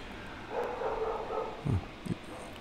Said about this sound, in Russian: в индонезийских деревнях собаки тоже иногда лают, поэтому если такие звуки слышите, прошу извинить, мой микрофон не в силах это отсечь